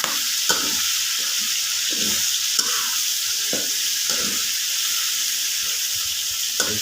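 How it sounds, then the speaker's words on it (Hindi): Chicken frying in a pan with a steady, close sizzle throughout, broken by occasional clicks and scrapes of stirring. "चिकन को भी ऐसे हम लोगों ने फ्राई करना है अच्छे से।"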